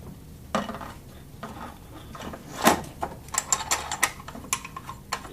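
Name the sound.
fastening screws to mount wheels on LTL-XL retroreflectometer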